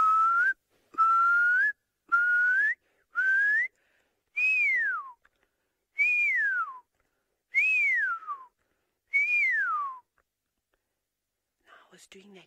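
A person outdoors at dusk gives a series of clear human whistles imitating a bird call: four short rising notes, then four longer notes that rise and fall, evenly spaced, with a faint whisper at the end.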